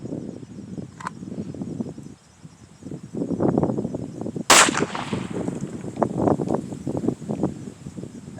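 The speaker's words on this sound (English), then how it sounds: "Cold shot, left hand, draw and fire." A single sharp pistol shot rings out from a left-handed cold draw at an outdoor shooting drill, one loud crack standing out against soft rustling and wind noise.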